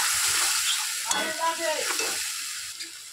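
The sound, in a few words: spice paste with green chili and tomato frying in hot oil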